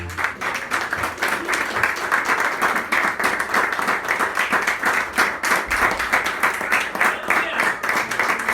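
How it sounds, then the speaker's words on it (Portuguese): Sustained rhythmic clapping from a large church congregation during a worship service, steady and continuous, with voices mixed faintly underneath. "podem bater palmas para Jesus"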